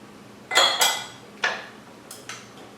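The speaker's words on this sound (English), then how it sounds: "Give it a little stir, and immediately put it onto the stove." Water and sugar stirred in a non-reactive saucepan while canning green dilly beans, giving five or six short metallic clinks and scrapes at uneven intervals, close and fairly clear against a quiet background.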